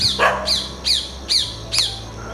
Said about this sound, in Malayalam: ഒരുപാട് കിളികളുണ്ടല്ലോ. തത്ത കരയുന്നുണ്ട്,